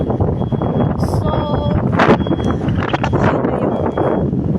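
Strong wind gusts at Kaohsiung train station, buffeting the microphone in a steady, loud, rumbling roar that lasts throughout, with faint voices underneath.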